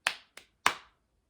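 Three crisp hand claps, close by and alone, the middle one lighter, with the first two close together and the last after a brief gap.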